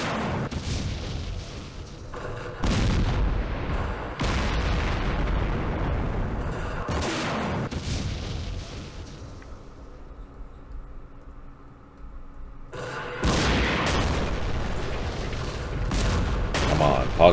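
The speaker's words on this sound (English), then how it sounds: "Damn recoilless rifles. That sounds like an anti-tank gun" Recoilless rifle fire in a Middle East wargame, heard as several heavy booming blasts with long rumbling tails, separated by quieter gaps, with speech over parts of it.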